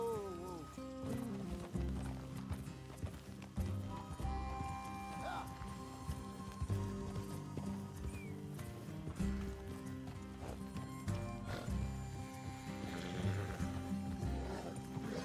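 Horses ridden in Red Dead Redemption 2 give a steady, rhythmic clip-clop of hooves throughout, with voices talking over the busy game soundscape.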